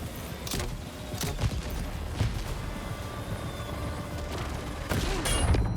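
Gunfire in the video game Death Stranding 2, a handful of sharp separate shots spread over several seconds with mechanical clatter between them, and no talking.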